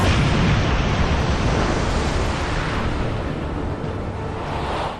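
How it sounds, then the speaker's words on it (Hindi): Massive explosion sound effect, a broad, roaring rumble that fills the space at full strength from the start and slowly eases off without a distinct sharp blast, no voices. "बड़ा विस्फोट होगा।"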